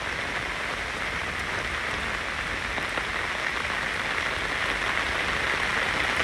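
Heavy rain pours steadily at a graveyard in Vietnam, a dense continuous hiss and patter that stays loud and even from start to finish with no voices.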